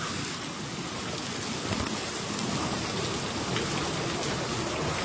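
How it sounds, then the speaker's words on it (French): Steady heavy rain pouring down near waterfalls, a dense broadband hiss of drops hitting surfaces, constant and close with no voices. "Oh là là, oh là là, ça pleut partout"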